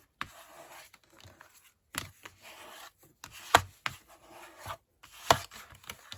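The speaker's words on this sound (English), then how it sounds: "you can give it a good burnish now that it's closed" The fold of a paper twist-and-pop card is burnished up close in short, dry rubbing strokes on paper. Sharp taps and scrapes punctuate the rubbing, with quiet gaps in between.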